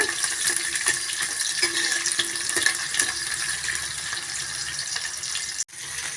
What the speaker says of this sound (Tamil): சின்ன வெங்காயம் சேர்த்துட்டு நல்ல ப்ரௌன் கலரில் ஆகிற வரைக்கும் வதக்கி விட்டுக்கோங்க